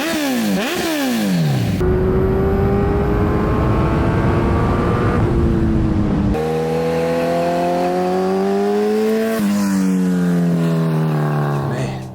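Loud, continuous engine roar from a Kawasaki Z1000 fitted with KO Lightning aftermarket exhaust pipes, the pitch sweeping up and shifting through several steps as it revs and pulls away, with no voices.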